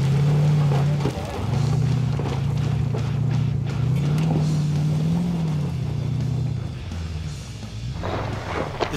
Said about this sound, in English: Peter lets the big V8 engine do the talking